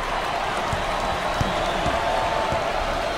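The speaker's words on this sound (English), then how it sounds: "Well, listen to those fans." Crowd cheering and applauding at a college basketball game in NCAA Basketball 10, Georgetown vs Providence: a dense, steady roar of fans with faint thumps beneath, loud and continuous.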